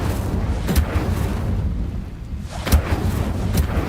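A fire spell cast over and over in Hogwarts Legacy, heard as a few roaring, booming bursts of flame that flare up and die away against a steady rumbling background.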